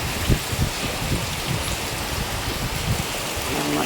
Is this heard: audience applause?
no